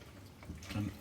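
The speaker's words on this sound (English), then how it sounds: "put some water straight in the pan so it can soak" Water splashes briefly into a cooking pan left to soak after making macaroni cheese, a short close gush with a quick burst near the end.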